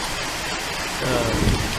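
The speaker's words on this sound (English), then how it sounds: "This rain is not conducive." Rainstorm with thunder, a steady hiss of falling rain and a low rolling rumble of thunder that swells near the end, fairly loud and close.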